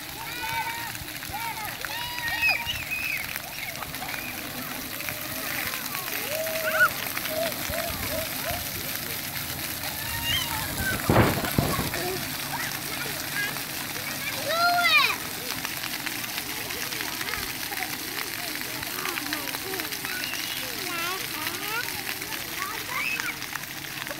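Children play at an outdoor splash pad: steady running and splashing water, with scattered high young voices calling and chattering throughout, and a few louder splashes.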